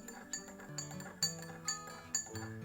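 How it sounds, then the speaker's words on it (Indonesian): A metal spoon stirs water inside a drinking glass, giving repeated light clinks against the glass wall in an uneven rhythm, close and moderately quiet over a faint musical background. "kita aduk air menggunakan sendok"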